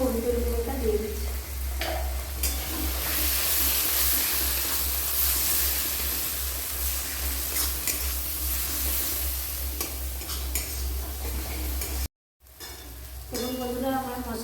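Ground ginger paste and turmeric powder frying in oil for a fish curry, a loud steady sizzle with spatula scraping and stirring against the pan, a brief cut near the end, then frying resumes under a short bit of speech.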